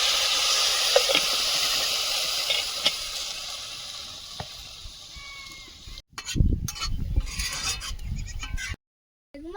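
Water poured into a hot wok of greens makes a loud, rushing steam hiss that fades over several seconds, then gives way to clattering and scraping in the wok before a brief silence.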